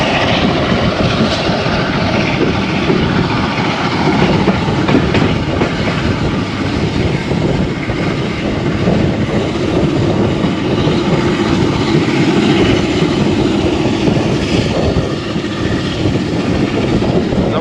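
A ZCU 30 diesel locomotive hauls the Allama Iqbal Express on the Karachi–Raiwind line, its engine chugging in a loud, continuous roar heard up close with rail noise throughout.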